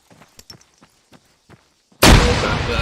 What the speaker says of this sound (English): throw the flashbang inside the room